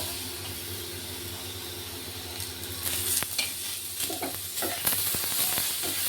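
Tomatoes frying with browned onion in a pan for dhaba-style matar paneer, giving a steady hiss that grows louder with scattered crackles and stirring scrapes toward the end.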